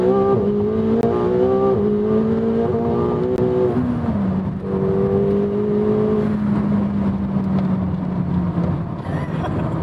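A 2024 McLaren 750S engine revving hard, its pitch climbing through a gear, briefly dipping at a shift, then pulling strongly again, loud and close.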